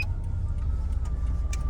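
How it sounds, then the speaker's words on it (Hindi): A taxi pulling off into Bangkok traffic, heard from inside the car as a steady low engine and road rumble with faint ticking, no one talking. "ये टैक्सी चला दी इन्होंने, गाड़ी मूवमेंट स्टार्ट कर दी है।"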